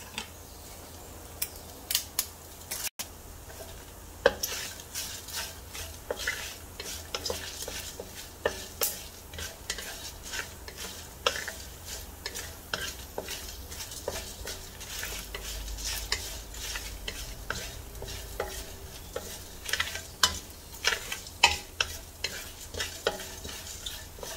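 Chilies fry in a pan for mutton bone curry, a continuous close sizzle broken by frequent scraping stirs and sharp clicks from the utensil.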